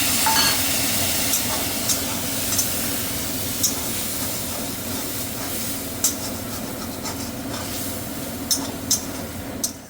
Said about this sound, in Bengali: যে বাটিটায় পোস্ত বেটে রেখেছিলাম সেই বাটিটারই একটু ধুয়ে গরম জলটা দিয়ে